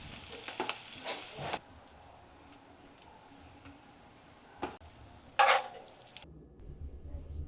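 Sausage and other ingredients stirred in a pan with a utensil, giving a few quiet clinks and scrapes against the metal over a faint sizzle, with a sharper knock near the end.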